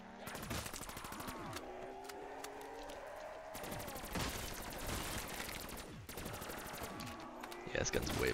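A pack-a-punched gun fires in Black Ops 3 Zombies on The Giant map, with dense, continuous rapid shots blending into loud game effects.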